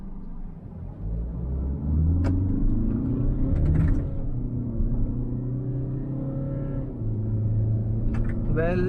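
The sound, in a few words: Tata Alcazar diesel engine accelerating in sport mode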